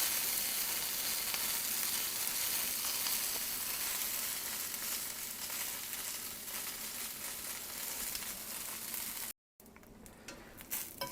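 Peppers frying in a pan, a long even sizzle held at moderate level, broken by a brief cut near the end before the frying noise resumes, with no talk.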